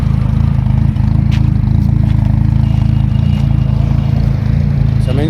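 A Daewoo Juliet car engine idles with a steady low rumble and faint mechanical clatter, heard close up and continuous for a few seconds, with some background noise.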